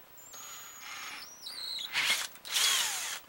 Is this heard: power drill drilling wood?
yes